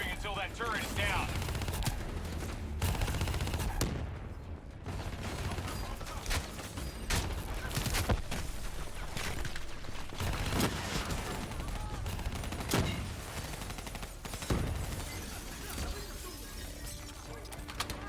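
Turret gunfire in Call of Duty: Black Ops III, rapid automatic bursts and scattered shots with mechanical clanks, fairly quiet overall, with voices talking intermittently over the firefight.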